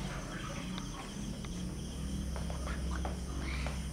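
Crickets chirp steadily at night in a quiet spot, a faint continuous trilling over low background hum, with no voices.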